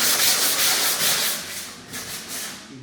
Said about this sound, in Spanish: No es necesario que el lijado sea muy fuerte, muy potente, justo para ir quitando esas irregularidades.